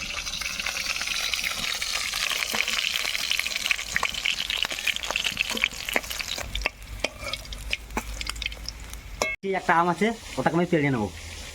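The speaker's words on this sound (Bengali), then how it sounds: "মাছগুলো সুন্দর লাল লাল ভাজা হয়ে গিয়েছে" Snakehead fish frying in a pan for a village-style dish with raw mango, giving a loud, steady, crackling sizzle with scattered pops that runs throughout, followed near the end by a short clatter and a brief voice.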